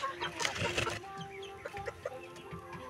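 Chickens cluck and chatter nearby, a burst of louder squawking at first, then short repeated clucks over a quiet background.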